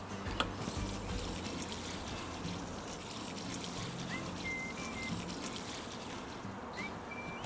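Water is poured from close by onto a cold compost bin, making a continuous splashing trickle that runs unbroken for several seconds.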